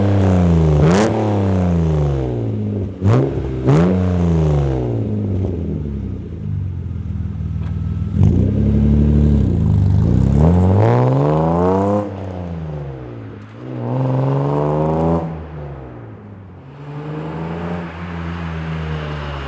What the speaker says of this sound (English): I'm gonna do some revving for you guys and just external exhaust notes